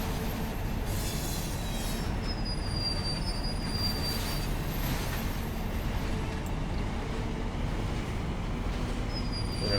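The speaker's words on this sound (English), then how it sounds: "Oh, there's a coal train going the other way." A coal train rolls past in the opposite direction in Train Simulator 2017, a steady loud rumble of wagons with repeated high wheel squeals over the whole stretch, no talk.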